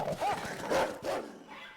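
A few short, high whines and yips from a dog, fairly faint, over a quiet background with some low voices.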